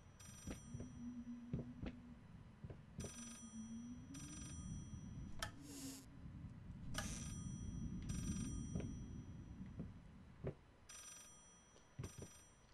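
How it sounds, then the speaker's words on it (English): A telephone rings in the horror video game Layers of Fear, sounding as repeated short bursts of bright ringing spaced across the stretch, over a low droning ambient bed. "the phone was ringing"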